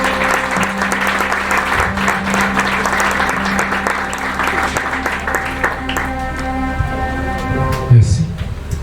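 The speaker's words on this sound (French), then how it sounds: "Je vous demande de l'applaudir, s'il vous plaît." Church congregation applauding the pastor at a sermon service, steady dense clapping filling the room for several seconds alongside sustained organ-like tones, tapering near the end.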